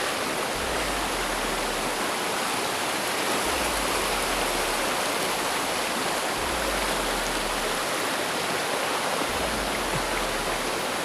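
A mountain river flows steadily near a trail, a constant broad rushing wash of water with low rumbling pulses underneath, loud and continuous with no voices.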